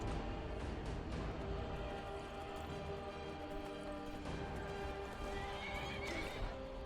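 Horse in the Skyrim video game neighing with rapid clip-clopping hooves, steady galloping rhythm under a clear whinny, moderately near amid game ambience.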